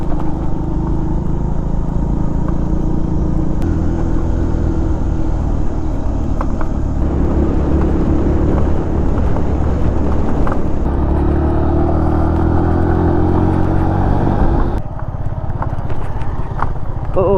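Vehicles crawl past each other in both directions on a narrow mountain road in Uttarakhand, with loud, close engine rumble, shifting motor tones and brief horn-like notes throughout before things quieten near the end.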